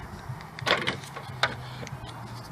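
Central locking on a Mini engaging: a couple of short mechanical clunks close together, then a single sharp click a moment later, over a low steady hum.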